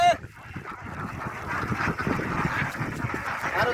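Ducks kept on a desert farm with a small water area give off scattered quacks and honks amid ambient farm noise, fairly close, with some background talk.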